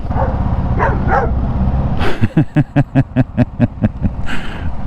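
A dog barks in a steady run of about nine sharp barks, fairly close, after some brief yips, with street and traffic ambience around it.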